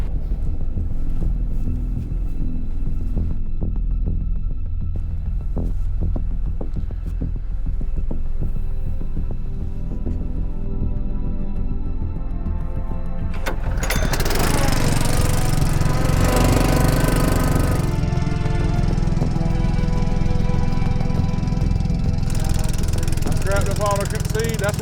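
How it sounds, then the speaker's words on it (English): A farm pump engine drones and throbs loudly and without a break, with a heavy mechanical rumble. Partway through, a harsher, brighter clatter joins in. "Let me check that pump real quick."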